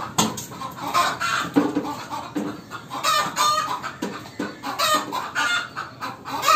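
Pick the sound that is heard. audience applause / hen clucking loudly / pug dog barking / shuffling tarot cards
hen clucking loudly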